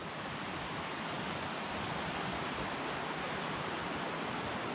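The Middle Fork Snoqualmie River rushes past close by, a steady broadband roar of flowing water with no breaks or voices.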